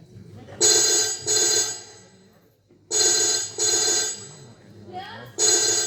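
A telephone rings in repeated double bursts, loud and close, with quiet gaps between rings and faint voices underneath.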